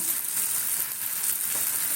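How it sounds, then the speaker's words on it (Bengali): Onions and spices with nigella seeds sizzle steadily in a hot pan for a rohu fish dish, a constant close-up frying hiss with no voices. "পেঁয়াজগুলো একটু ভাজা ভাজা হয়ে যাবে"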